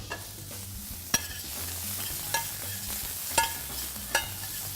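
Ginger, garlic and onions frying in a pan give a low steady sizzle, with a few sharp clinks of a utensil against the pan spaced through it.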